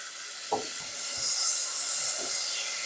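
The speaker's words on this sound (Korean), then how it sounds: "고기 넣어가 볶을게요" Meat stir-frying in sesame oil in a pan for a dried-pollack bean-sprout soup, a steady soft sizzle and hiss with a few light knocks of a utensil stirring early on, no talking.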